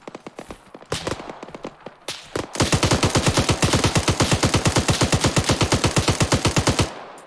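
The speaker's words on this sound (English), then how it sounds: "I'm gonna shoot him." Gunfire in Arma 3: a few scattered shots, then a long, fast, evenly spaced burst of automatic fire, loud and close, running for several seconds before stopping abruptly.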